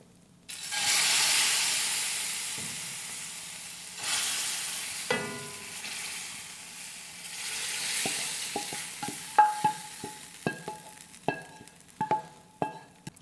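A second tarka of hot tempering hits a pot of moong masoor dal, opening in a loud, steamy sizzle that fades into gentle frying and bubbling, then a run of sharp spoon clinks as it is stirred in, with no talking.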